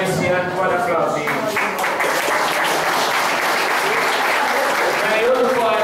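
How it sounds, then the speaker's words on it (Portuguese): An audience claps loudly and continuously for a poet at a 2013 tribute event, a full, even wash of applause with voices audible beneath it. "Tem outro poeta, João Feliciano, bora aplaudir também, viu?"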